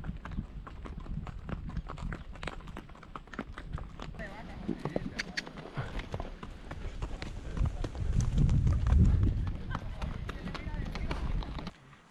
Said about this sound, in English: My horse is going so slowly.